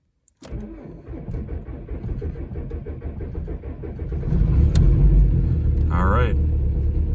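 A VW TDI ALH diesel engine cold-starting at zero degrees Fahrenheit on an AGM battery: the starter cranks for several seconds, then the engine catches and settles into a louder, rough rumbling idle, close up, with a person talking over it.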